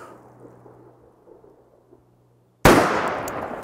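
One loud, close .500 S&W Magnum pistol shot using Alliant 2400 powder, fired outdoors at a 4x4 wooden post, an abrupt blast after a quiet stretch of faint background, trailing into a long rumbling echo.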